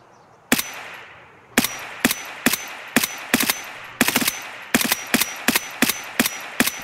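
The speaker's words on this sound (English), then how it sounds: "That is some far distance shots." Distant gunfire in Escape from Tarkov: a steady series of sharp rifle shots, about a dozen evenly spaced cracks with short echoing tails, well away from the listener and heard alone with no talk.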